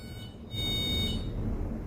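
A smart hat's driving-safety alarm gives a thin high electronic buzzing tone that cuts in and out across the clip over a low rumbling background, with no talking.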